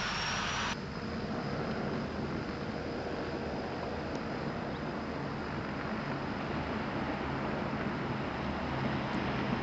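A PB4Y-2G Privateer air tanker flies away at Santa Barbara in 1987, its piston engines giving a continuous broad roar that holds steady and fairly loud throughout, with no talk.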